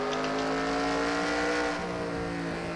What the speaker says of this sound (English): See him slam on the brakes and wait for a gap to open.